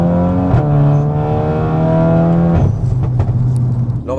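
Volkswagen Golf 8R with around 500 hp in sport mode on stage 2, engine revving up loud and close through the gears, pitch climbing steadily before a shift and a rougher, throatier pull afterward.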